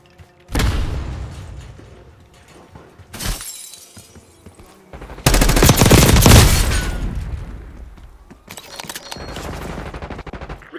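Gunfire and explosive impacts from the Call of Duty Black Ops 6 video game on the Kill Order Rewind map, with loud bursts of shots, shattering crashes and a heavy blast in the middle, in an intense running firefight.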